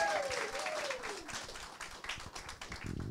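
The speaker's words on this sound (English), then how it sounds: "Give her a big round of applause." An audience applauds the police chief at a Richmond community event for a music video release, a dense wash of steady clapping at moderate volume lasting about three seconds.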